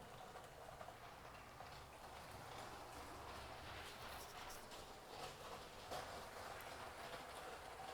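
A model train runs on its track in a scale megastructure layout, giving a steady faint rolling hum with light clicking all the way through, quiet and without any voices.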